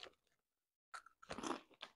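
Funny Frisch Kessel Chips in Spicy BBQ flavour crunch loudly between the teeth close up, with a short pause and then a burst of bites and chewing.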